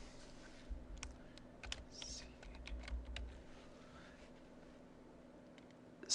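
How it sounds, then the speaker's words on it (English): Someone types a last name on a computer keyboard in Microsoft Word 2010: scattered, close clicks in short irregular runs over a low steady hum, with a louder knock at the end. "And then I'm going to go ahead and type in my last name."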